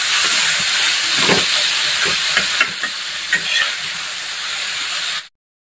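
Dry fenugreek-leaf vegetable dish is stirred in a hot pan under a loud, continuous steamy hiss. Intermittent scraping strokes of the spatula break through before everything cuts off abruptly.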